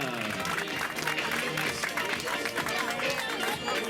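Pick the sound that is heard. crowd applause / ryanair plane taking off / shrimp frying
crowd applause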